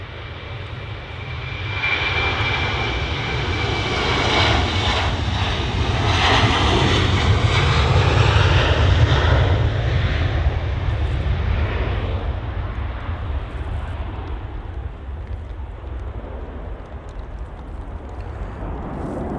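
An airplane arrives at Manchester Airport, its engine roar rising to a loud, broad rumble as it passes nearby, then slowly fading over the following seconds.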